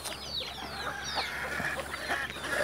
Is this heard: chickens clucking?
yes